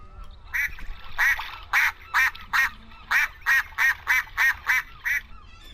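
A man imitates a duck with a long series of loud, nasal quacks. They start irregularly and then settle into a fairly even rhythm of about a dozen calls, close to the microphone and with no other talking.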